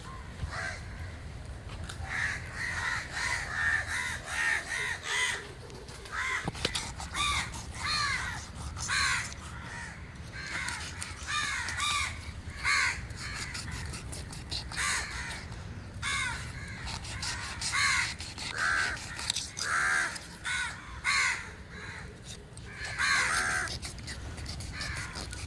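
Crows caw repeatedly around a house, harsh calls overlapping in irregular bursts at moderate distance, steady and unbroken with no talk.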